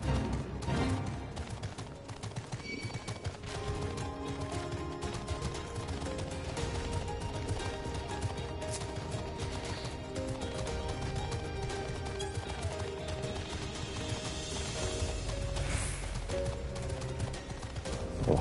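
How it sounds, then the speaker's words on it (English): Horses' hooves clip-clop steadily in Final Fantasy XIV, a continuous moderate patter mixed with game music and ambient noise throughout. "Those horses over there."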